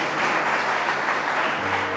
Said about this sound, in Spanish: Entonces denle un fuerte aplauso al Señor.